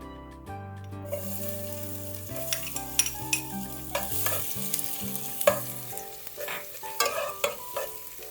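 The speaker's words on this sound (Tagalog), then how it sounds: "nag-init lang ako ng mantika sa ating kaldero. Para magsimula na tayong magisa nitong ating bawang." Oil sizzles steadily in a pot as garlic is sautéed and stirred for chop suey, with intermittent scraping and clinking of a utensil over a low musical background.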